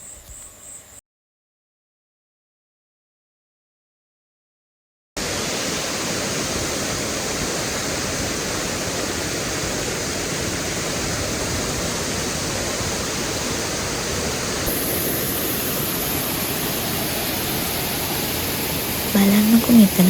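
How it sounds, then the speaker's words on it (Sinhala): Baker's Falls on the Horton Plains sends up a steady, dense roar of falling water that fills the scene without pause after a brief quiet gap at the start, constant and fairly loud throughout. "මේ තියෙන්නේ බේකර්ස් ඇල්ල."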